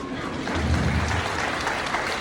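Brief burst of audience applause at a Fresno State EOP commencement, a dense, steady mass of clapping from a large crowd, sounding somewhat distant.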